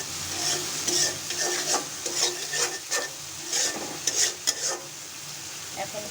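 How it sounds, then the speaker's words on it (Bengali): Spice paste sautéed in oil for a tengra fish curry with pumpkin bori, stirred steadily with a spatula; close scraping strokes over a soft, constant sizzle, with no talking. "মশলাটা কিন্তু খুব ভালো করে কষাতে হবে, না হলে কিন্তু ঝোলটা ভালো হবে না।"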